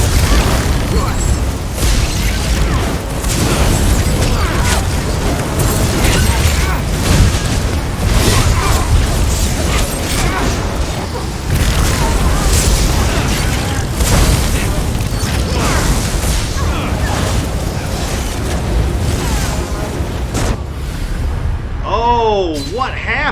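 Voltaic detonation explosions in The Elder Scrolls Online, inside a dungeon hall during combat: dense, continuous booming blasts and crackling bursts mixed with game effects and battle noise.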